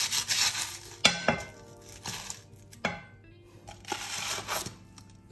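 A sourdough pizza slides out of its pan with scraping and clanking of metal, a few sharp knocks and rattles spaced across several seconds, close by and moderately loud.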